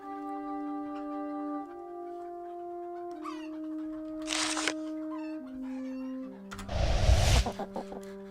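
Chickens cluck in the video game Dysan the Shapeshifter, heard as short bursts over steady game music tones, with a louder noisy burst near the end.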